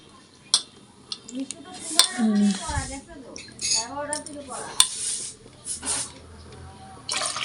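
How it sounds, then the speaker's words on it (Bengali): Rice being washed in a pot, with clattering metal knocks, sloshing water and clinks of grains and vessel, close by, with a voice speaking intermittently over it. "তো এই যে চাল ধুয়ে রেডি করে রাখছি"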